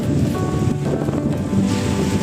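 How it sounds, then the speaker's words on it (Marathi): Monsoon waves splash and churn in the Bhandardara dam reservoir, a loud continuous wash mixed with heavy wind buffeting against the microphone. "हा पाण्याच्या आणि लाटा उसळत आहे"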